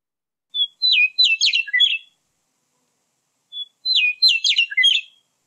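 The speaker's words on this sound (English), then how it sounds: "That is the Western meadowlark." A Western meadowlark sings two clear, bright phrases, each a quick run of flute-like whistled notes and warbles, separated by a pause and heard up close against total silence.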